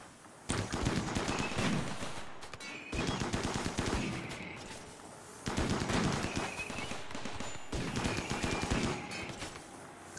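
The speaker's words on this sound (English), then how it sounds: "Dems is shooting." Rapid automatic gunfire in the Rimworld colony game, set in an extreme desert map, comes in four long sustained bursts separated by brief gaps, loud and dense throughout.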